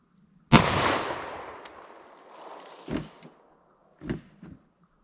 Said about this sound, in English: 357 SIG. Let's see what one shot of this thing will do.